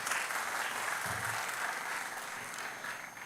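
An auditorium audience at an institute orientation program gives a round of applause for the chief guest, a dense, even wash of clapping heard from a distance at low volume.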